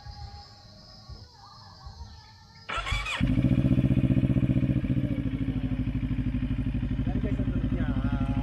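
A CFmoto NK400 motorcycle engine cranks and fires after a quiet stretch, then settles into a loud, rapid, throbbing idle heard up close.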